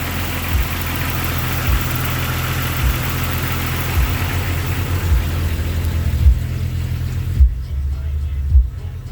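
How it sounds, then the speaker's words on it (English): A 4.0 engine fitted with a 62mm throttle body and new cap and rotor idles steadily with a low, even rumble and periodic thumps, running close by and alone with no talking. "It's idling where it should be."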